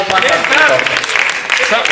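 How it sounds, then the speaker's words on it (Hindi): Loud, steady applause from an audience fills a Foundation Day gathering of the Sri Yuvak Sahitya Sadan literary society in Sirsa, holding an even level for about two seconds. "एक बार जोरदार तालियों के साथ दानिश साहब"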